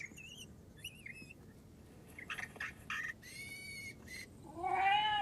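Recorded yowls of a female cat in heat, broadcast by an anti-cat robot, come as a series of rising and falling cries that grow louder and longer toward the end, with no talk.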